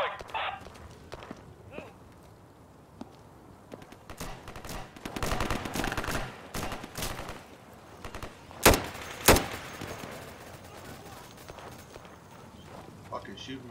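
Gunfire in the video game Insurgency set in Baghdad: scattered shots and bursts through the middle, with two sharp loud cracks near the end, beneath someone talking throughout.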